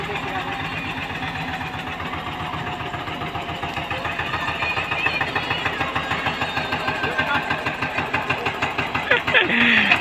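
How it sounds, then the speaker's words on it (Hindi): Tractor engine chugging steadily at close range, stuck in a wet field while hauling a sand trailer, with a regular pulsing idle that grows slightly louder and rougher toward the end while people talk over it. "तो भाई ट्रैक्टर आ गया बालू लेकर, देख रहे हैं कैसे आ रहा है।"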